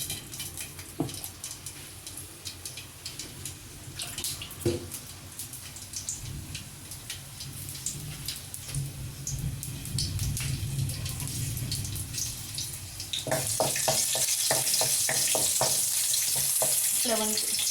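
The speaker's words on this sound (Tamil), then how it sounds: "இப்போ இந்த எண்ணெய் காயிட்டோம்ல, எண்ணெய் காஞ்ச பிறகு நம்ம சில்லி ஆட் பண்ணுறோம்." Chillies dropped into hot oil for a pomfret coconut fish curry, a crackling sizzle with scattered pops and stirring clinks that grows louder and brighter toward the end.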